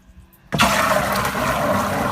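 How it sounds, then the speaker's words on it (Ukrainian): A Forte CF-16 PRO sprayer's mixer switches on abruptly and churns the water in its tank, a loud, sustained turbulent sloshing and gurgling rush that starts after a brief quiet moment and continues steadily. "Вода аж вистрибує з бачка, виливається."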